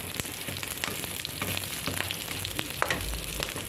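Garlic and onion sauté in a pan for Filipino ginataang sigarilyas, a steady close sizzle and crackle with faint scraping of a native wooden ladle, no voices.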